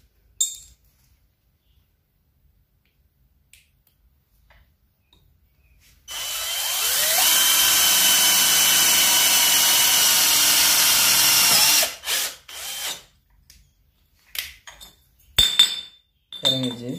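A Keelat cordless electric drill bores into iron, a steady loud whine running for about six seconds after a quiet start, then stopping abruptly, followed by scattered clinks and handling knocks.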